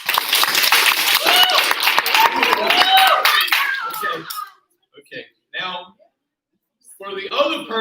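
A taekwondo class claps hands to vote, a dense burst of many hands clapping together for several seconds, then fading to a few scattered claps and a short renewed flurry.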